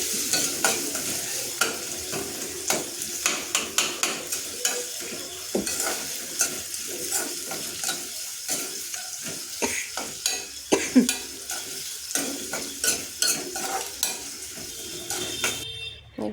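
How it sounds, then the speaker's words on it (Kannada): Onions, carrots, potatoes and kohlrabi fry in a pan with a soft, steady sizzle. A spoon scrapes and clatters against the metal again and again in a repeating stirring rhythm, close by and without talk. "ಫ್ರೈ ಮಾಡ್ಕೊಂಡಾದಮೇಲೆ ಹಚ್ಚಿಟ್ಕೊಂಡಿರ್ತ ತರಕಾರಿ ಏನೇನು ಹಚ್ಚಿಟ್ಕೊಂಡಿರ್ತೀವಿ ಅದನ್ನೆಲ್ಲ ತರಕಾರಿನೂ ಹಾಕಿ ಎಲ್ಲ ಫ್ರೈ ಮಾಡಬೇಕು."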